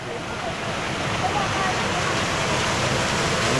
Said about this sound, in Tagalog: Ayan o, falls.